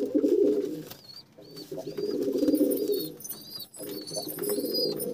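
Old desi pigeons and fancy pigeons coo in a loft, deep throaty rolling coos in repeated bursts with brief gaps, mixed with faint higher chirps in the background.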